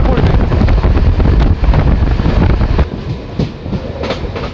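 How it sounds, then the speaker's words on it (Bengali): A passenger train rolls into Shikaripara station, loud and close, with a dense rumble and clatter of wheels on rail and wind buffeting the microphone, then the noise eases as the train slows. "সামনে ট্রেন শিকারিপাড়া স্টেশন এন্টার করবে"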